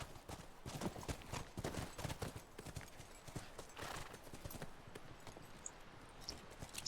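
Horse hooves clip-clopping in the video game The Last of Us, a quick irregular run of hollow hoof strikes at moderate distance, fairly faint, with no talk.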